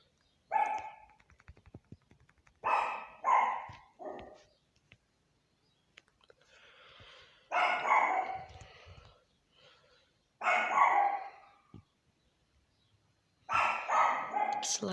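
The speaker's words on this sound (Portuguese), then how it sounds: "É minha cachorrinha latindo." A small dog barks in clusters of sharp, high yaps, a few close-spaced barks at a time separated by quiet pauses, fairly close and clear.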